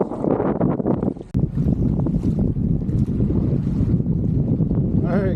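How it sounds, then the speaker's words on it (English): Strong wind buffeting a fishing kayak at sea off Hawaii, heavy low rumbling gusts on the microphone with swells sloshing, loud and continuous throughout. "the wind picked up, the swells picked up. It's getting white caps."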